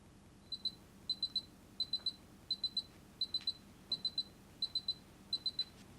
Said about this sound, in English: The flashing red light and the beeping signals that the run is finished.